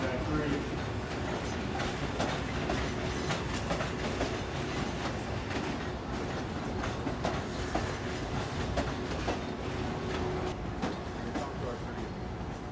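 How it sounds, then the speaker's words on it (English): A New York subway train arriving at a station rumbles steadily with rhythmic clickety-clack of wheels on rails, a continuous close mechanical roar with a faint voice underneath. "124 train to Atlantic Brooklyn, now arriving track 3"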